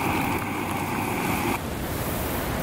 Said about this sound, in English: It's literally been going for like 2 seconds and it's already boiling.